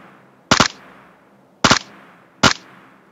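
Three short, evenly spaced bursts of rapid automatic gunfire from the mobile shooter PUBG Mobile, each loud, sharp and close, with quiet gaps between them.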